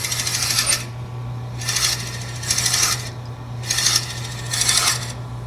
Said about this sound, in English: place the drill bit inside the hole, and I've already marked the depth on the bit with a piece of tape. Just going to bore to that depth.